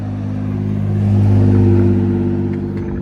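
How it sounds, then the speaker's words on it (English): A heavy vehicle engine rumbles close by, swelling louder as it passes and then easing off, with no voices. "Loud truck."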